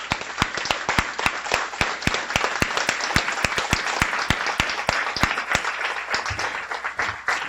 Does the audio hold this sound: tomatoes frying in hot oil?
no